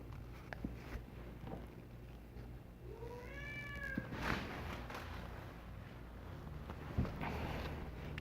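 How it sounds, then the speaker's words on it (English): A cat meows a few times midway, faint and somewhat distant, over low background noise and a couple of soft knocks. "That you hear is my cat Maxine."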